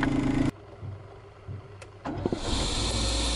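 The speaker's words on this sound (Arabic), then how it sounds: "هذا السيرفو نتاع الفرامل كيفاش يطشطش، كي ننزلوا على الفرامل" A car's brake servo, or booster, with a suspected fault hisses as the brake pedal is pressed. A loud airy rush cuts off abruptly, quiet follows, then a strong steady hiss swells back in near the end.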